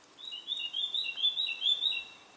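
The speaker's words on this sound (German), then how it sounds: "Vögel, pfiff." Small birds chirping near a Swiss balcony garden of woodruff plants, a rapid run of thin high tweets repeating in quick succession, moderately close and clear over a quiet background.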